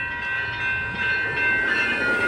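A SacRT light rail train rolls steadily past a railroad crossing, a continuous loud rumble of wheels and cars with a sustained tonal ring from the crossing, no voices.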